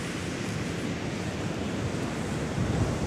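Steady broadband rush of surf with some wind noise during a boat crossing, continuous and fairly loud throughout, swelling slightly near the end.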